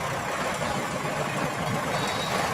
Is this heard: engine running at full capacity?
yes